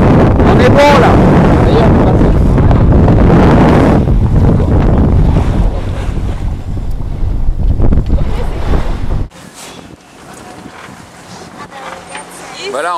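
A sailboat motors out of Nouméa harbour and through the reef pass, bound for Santo, with loud steady wind buffeting and rushing water close by. Voices come through at times, and the roar drops sharply to a quieter hum after about nine seconds.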